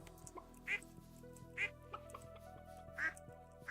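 Ducks on a Stardew Valley video game farm give three or four short, evenly spaced quacks over soft background music.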